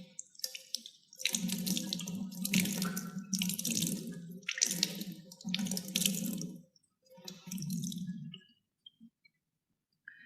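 Tap water runs in bursts while wool threads boiled with sodium hydroxide are rinsed, heard as several close splashing gushes separated by short pauses, then a few faint drips as the flow stops.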